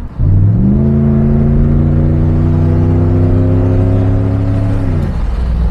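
A 1991 Pontiac Trans Am's 5-litre single-point-injected V8 drones loudly close up, its low tone rising steadily in pitch as it accelerates for several seconds before easing off.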